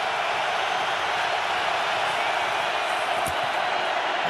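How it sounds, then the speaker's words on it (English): A stadium crowd roars steadily at Soldier Field during the 2018 NFC Wild Card playoff game between the Eagles and Bears, a dense, loud wall of noise that holds throughout, with a brief sharper spike near the end. "Crowd roaring at Soldier Field."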